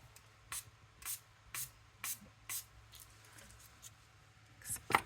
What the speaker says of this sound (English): with my little water sprayer, just to help them start loosening up